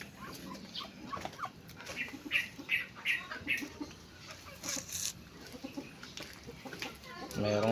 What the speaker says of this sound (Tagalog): Merong manok.